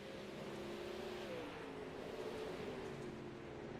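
Dirt track race car engines at Lernerville, a faint, steady distant roar with wavering pitch as the pack runs under a green flag, with no voices.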